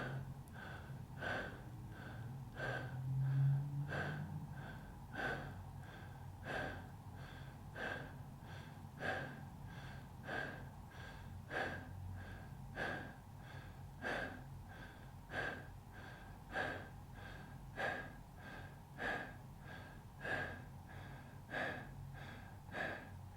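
Quiet connected breathing through the nose or mouth, done as breathwork. Breaths follow one another at a fast, very even pace, soft and close, with no talking.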